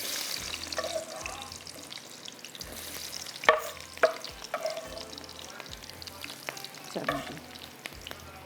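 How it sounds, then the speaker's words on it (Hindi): Chopped onions frying in hot oil in a home kitchen, a soft steady sizzle broken by clanks and scrapes of stirring, with a few sharper knocks partway through. "अब ये जाएगी ऑयल के अंदर, और इसको करते हैं फ्राई।"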